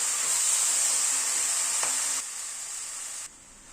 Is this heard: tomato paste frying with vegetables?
yes